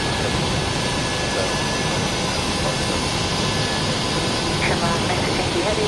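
Boeing 737-800 jet engines during takeoff climb on a Turkish Airlines Turkey–Cyprus flight, a loud, steady, broadband roar that holds unchanged throughout, with faint speech partly buried beneath it.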